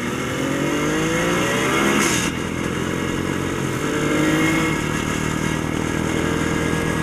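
An old motorcycle, ridden again after 20 to 25 years and needing carburetor fine-tuning, runs loud and close with a steady engine drone and a brief rev rising around the middle.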